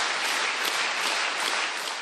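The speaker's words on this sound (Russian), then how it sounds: "В главном зале Рустама Минниханова встречают стоя и под громкие аплодисменты" Dense, even applause fills a large main hall at an official gathering in Tatarstan as a standing audience greets an arriving president, a steady wash of many hands clapping at once from a moderate distance.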